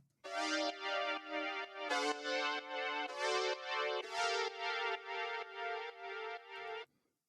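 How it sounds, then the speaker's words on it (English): Sustained synth chords from the Anamorph wooden saw preset move through a progression, each chord held about a second with rich bright harmonics, loud and close with no talking. "the sound is coming from Anamorph again, the wooden saw preset"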